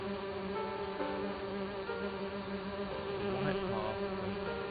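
Video-game bees swarm around an artificial hive, a continuous droning buzz with layered wing tones that holds steady at a moderate level without pause.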